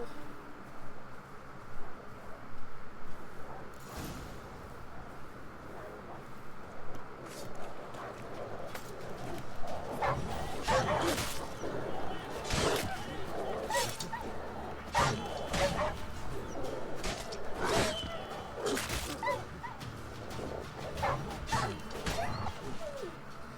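Rabid dogs in the video game Witcher 3 bark and yip in a flurry of sharp bursts during a fight, mixed with crashing hits over a steady ambient background.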